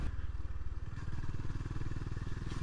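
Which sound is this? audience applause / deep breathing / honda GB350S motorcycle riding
honda GB350S motorcycle riding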